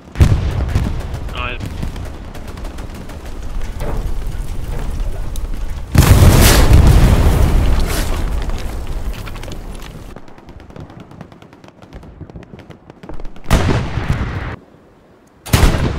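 Precision strike explosions in Hell Let Loose: loud heavy booms and rumbling blasts, one big eruption lasting several seconds, followed by more distant thuds and a final sharp blast, with radio chatter in places.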